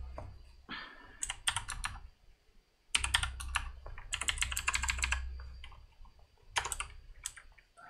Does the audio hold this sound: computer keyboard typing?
yes